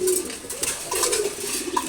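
Pigeons in a home loft coo softly in short, repeated throaty calls close by, with no voices over them.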